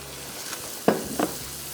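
Sugar is roasted in a pan with dal for khajoor halwa, giving a low sizzle with two sharp stirring scrapes close by; no one speaks.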